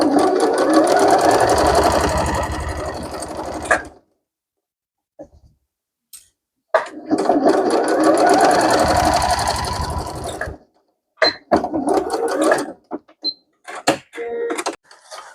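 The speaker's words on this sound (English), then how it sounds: "While I'm at the sewing machine," A sewing machine stitches fabric strips for a tote bag, running in two long steady bursts of several seconds each, separated by a pause, then a series of short stop-start runs close up.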